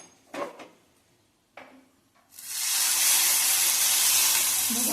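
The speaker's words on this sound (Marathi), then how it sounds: "बघा चरचरीत असा आवाज आला फोडणीचा" A few clinks and knocks of a pan, then a hot tempering (phodni) is poured over amla saar and erupts into a loud, sustained close hiss and sizzle.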